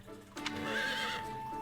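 A horse in the video game Fire Emblem: Three Hopes gives a single high whinny, preceded by a brief snort, clear and fairly close against a steady tonal game background hum.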